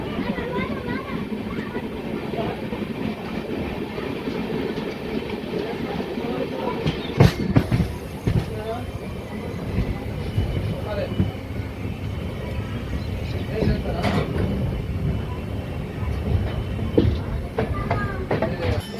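A passenger train on the Kakinada Town to Mysore route rumbles past at an Indian railway station with steady clattering wheels and a few sharp metallic clanks, while people talk nearby.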